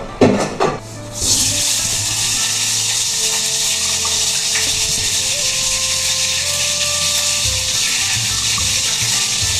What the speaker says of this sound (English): The oil is like splashing everywhere.